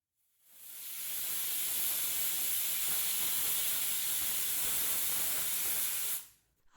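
A pressure cooker full of tapioca pieces, water and salt vents steam in a loud, steady hiss that starts abruptly, holds for about five seconds and then cuts off.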